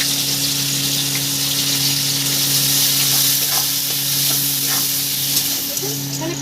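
Three large onions, chopped small, fry in oil with a loud, continuous sizzle and hiss up close, with a steady electrical hum underneath and occasional soft stirring crackles.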